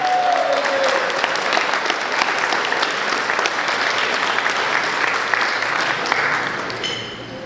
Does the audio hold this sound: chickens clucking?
no